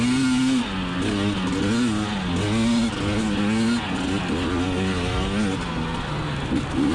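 A 2020 KTM 300xc TPI two-stroke enduro motorcycle revs up and down while riding a trail, its loud buzzing engine note rising and falling continuously and close by throughout.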